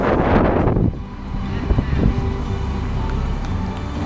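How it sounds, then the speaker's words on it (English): Gusty wind buffets the microphone outdoors, a loud roaring rush that eases slightly after the first second and continues as a steady blustery drone. "It's actually really windy and nasty and pretty crappy."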